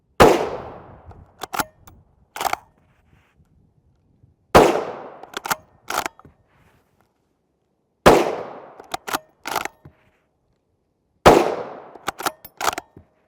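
Four loud, close 350 Legend rifle shots from a 16-inch Ruger American bolt-action, each a sharp crack with a trailing echo, evenly spaced a few seconds apart and followed by quick clicks of the bolt being cycled.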